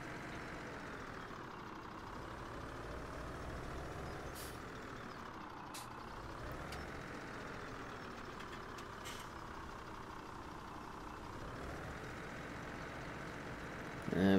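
A truck in Farming Simulator 17 droning steadily with a low engine rumble that swells and eases as it revs, a few brief hissing air-brake bursts, and faint repeated reversing beeps, no talking.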